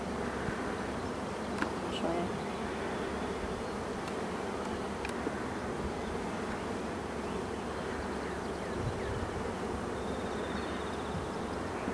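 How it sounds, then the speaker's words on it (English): Honeybees from a package colony about a month old hum steadily inside a hive, a dense continuous buzz at close range with no talking over it. "So this is a package bee I started about a month ago."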